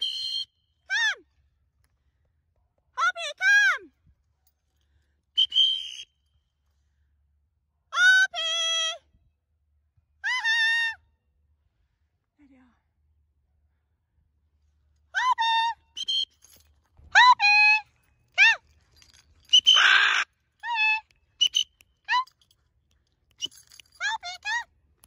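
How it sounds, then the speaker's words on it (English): Harris hawk giving repeated sharp, high descending screeching calls in bursts with silent gaps, loud and close, a few closely spaced near the end. "No, it is a Harris hawk."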